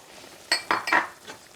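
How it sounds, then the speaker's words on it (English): A spoon scrapes and clinks around a pot of shrimp with beetroot and seasoning, several short stirring strokes close by, the middle of the stretch loudest, with no talking. "Give it a nice stir"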